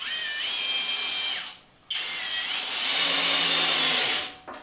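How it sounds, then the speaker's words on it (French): A HOTO cordless drill driver in screwdriving mode drives a screw, whirring loudly for over a second, pausing briefly, then spinning up again in a longer, steadier burst with a strained tone as the screw bites. "Et nous allons voir si ça visse bien la vis. Alors là je me mets en mode vissage"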